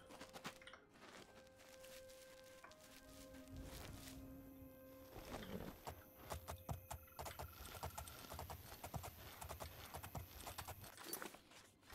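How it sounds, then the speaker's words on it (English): Steady clip-clop of black horses' hooves on hard ground in the video game Oblivion, rhythmic and fairly close, with faint chimes and background tones layered over the footsteps. "They have black horses here."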